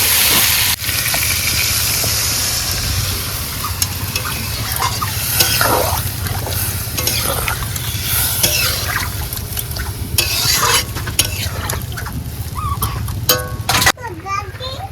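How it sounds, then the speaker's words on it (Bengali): Cauliflower fries and is stirred into a spice paste, giving a constant sizzling hiss with stirring scrapes beneath frequent talking and children's voices. "মশলা হয়ে গেছে ফুলকপিটা দিয়ে দিচ্ছি"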